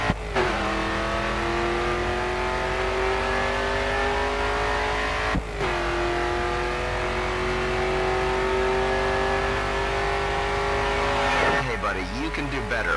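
Race car engine in the video game GRID 2, revving hard at full throttle with a sustained high whine that dips once at a gear change, then tires squealing in a drift near the end.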